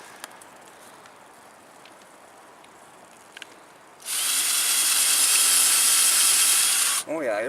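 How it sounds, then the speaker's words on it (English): A cordless drill bores into a broken mailbox stand, a loud sustained whine cutting in suddenly after quiet outdoor ambience and running for about three seconds before a voice comes in at the end. "Oh yeah, it'll drill it out all right."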